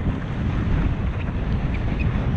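Strong wind roars and buffets the microphone during a windsurfing session at Ho'okipa on Maui, a continuous loud rush with surf and water noise underneath and no talking.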